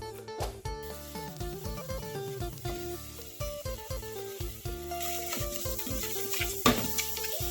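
Beef sizzles and scrapes in a hot pan as it is stirred and tossed with seasonings, with rhythmic clanks and tonal music in the background.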